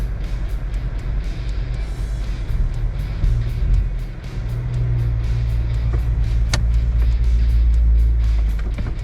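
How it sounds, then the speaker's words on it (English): Several cars driving off a river ferry at Tailem Bend as the gates open, a steady close engine rumble with a rising drone in the middle, continuous and fairly loud, with no talking. "The cars will go before us"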